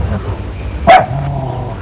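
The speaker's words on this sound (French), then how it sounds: "Qu'est-ce qu'il dit le chien?" A single sharp dog bark rings out at moderate distance over steady outdoor background noise on Réunion Island, with no talking.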